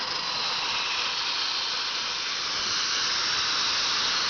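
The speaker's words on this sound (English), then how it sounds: "you open the throttle back up and it lets steam into the cylinders" A steam locomotive at a railroad open house hisses steadily as the throttle opens and steam flows into the cylinders, a loud, continuous rushing hiss with no break.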